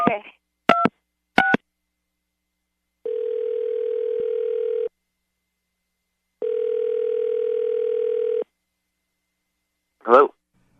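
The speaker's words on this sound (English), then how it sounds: "we'll call him right now and see if we can get him on the phone" Telephone dialing tones beep in short bursts, followed by two long ringback tones with pauses between, clear and close on a phone line at the start of a radio call, with a brief voice fragment at the end.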